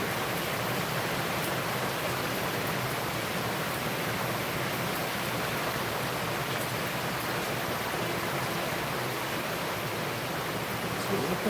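Heavy monsoon rain pours steadily in the Konaseema region, a dense, even wash of broadband hiss that holds at a constant level from start to finish with no pauses.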